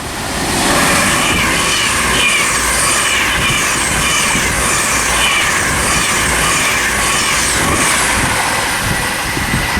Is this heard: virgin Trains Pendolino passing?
yes